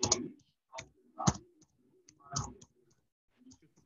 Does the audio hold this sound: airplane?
no